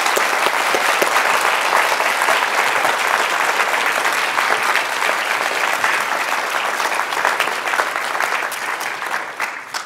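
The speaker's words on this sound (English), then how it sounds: "Let's give him a big round of applause." A lecture audience at a university mathematics talk applauds steadily, a dense, even wash of clapping from many hands that holds for about ten seconds and tapers slightly at the end.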